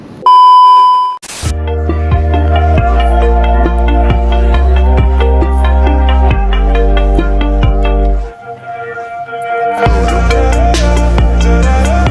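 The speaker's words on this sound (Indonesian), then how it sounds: "untuk mengaktifkan buzzer kita harus memencet switch dari si blinknya tersebut" A buzzer on an IoT earthquake detection system sounds a loud, steady electronic tone in a series of sustained beeps that change pitch, with a brief pause before it resumes, and no talking.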